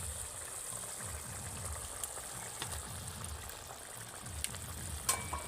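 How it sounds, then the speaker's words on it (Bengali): Fried okra goes into a pot of well-boiled curry gravy, giving a steady low sizzle and bubbling with faint stirring clinks, close and continuous with no talk. "এবার আমি ওই ঝোলের মধ্যে এই ভেজে রাখা ঢ্যাঁড়সগুলোকে এবার দিয়ে দেব"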